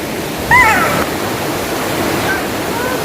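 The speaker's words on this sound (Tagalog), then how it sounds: "Hindi pala siya falls. Parang river na malaki." A large river in Igbita, Miagao, Iloilo rushes steadily, a broad continuous roar of flowing water heard close, with a couple of faint high chirps above it.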